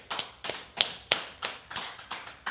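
Hand clapping in a steady rhythm, about three sharp claps per second, close and crisp, with no voices over them.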